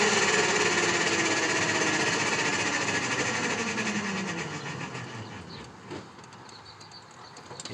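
The electric motor of a converted Subaru 360 revving in neutral, a steady high-pitched whine with mechanical hum that winds down and fades over several seconds, ending with a few faint clicks.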